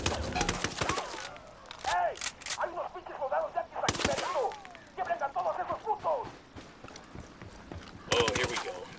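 Gunfire in Ghost Recon Wildlands: sharp rapid bursts of shots at the start, near the middle and at the end, with voices talking and calling out in the gaps between the volleys.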